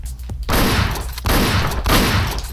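Shotgun blasts in the top-down video game Hotline Miami: three loud, booming shots roughly half a second to a second apart, close and dominant, with no voices.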